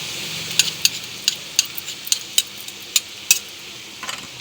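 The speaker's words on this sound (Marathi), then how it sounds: "हा खवा आपण दोन मिनटं परतून घेतलाय" Khoa being sautéed in a pan for a sweet potato dish, a close spatula scraping and tapping in a quick irregular rhythm over a gentle background sizzle.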